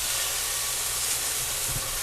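Potatoes sizzling in a hot frying pan during breakfast-bowl cooking: a steady, close hiss of frying fills the whole stretch with no talk over it.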